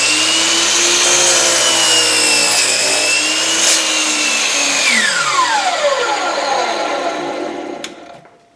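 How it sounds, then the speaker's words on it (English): A crosscut saw ripping along the grain of wood, a steady continuous rasping drone that holds strong for several seconds, then slows and fades out near the end. "I'm cutting with the grain with a crosscut saw"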